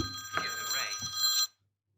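A mobile phone rings during a committee meeting, a bright electronic ringtone with repeated tonal pulses for about a second and a half before cutting off, with faint room sound around it.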